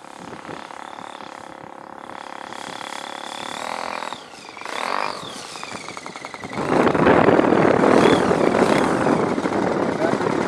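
Small model engine on an RC EAA biplane running on the ground while taxiing at a model flying club, a steady buzzing drone that swells louder partway through, with people talking over it.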